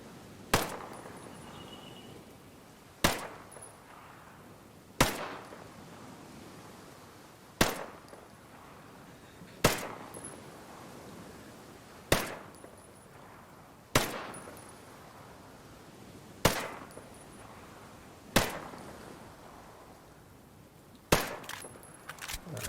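An unsuppressed P320 pistol in Ghost Recon Breakpoint fires ten spaced, aimed rounds, each a sharp loud crack with a short decaying tail at an uneven, deliberate pace.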